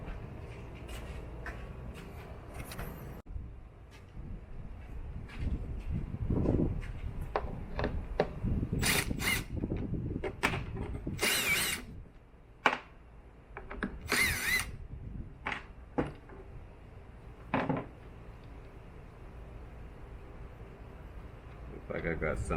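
Power drill driving out hex screws on a RAM 1500/2500/3500 truck headlight, several short whirring bursts up close with bumps and scrapes between them, and a voice talking in between.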